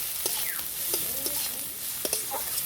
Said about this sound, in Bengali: গ্রেট করা আদা রসুন আমি দিয়ে দিলাম। আমি আর একটু ভেজে নেবো এটাকে সামান্য।